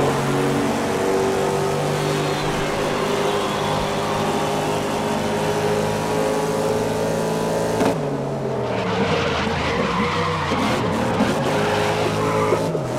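Race car in GRID (2019) droning at steady high revs for the whole stretch, with tire skids and squeals breaking in after the halfway point as the engine note drops and shifts.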